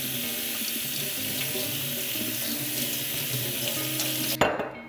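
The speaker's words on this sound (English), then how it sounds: "refresh that under some cold water to stop the cooking process" Steady cold tap water running into a sink, splashing over food for several seconds before the faucet shuts off abruptly.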